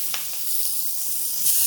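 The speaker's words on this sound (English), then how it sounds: "Hot griddle pan, that's what you wanna hear. That sizzle is not only gonna cook it" Kebabs sizzling on a hot griddle pan, a steady bright hiss with a faint pop near the start and a swell at the end, heard alone without talk.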